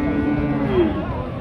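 A native-breed cow lows at the Chougachha cattle market in Bangladesh, a short steady moo heard up close against market background noise.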